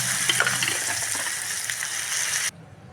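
Loud crackling sizzle from a hot oil tempering as ridge gourd tomato chutney is added, fizzing steadily for a couple of seconds before cutting off abruptly.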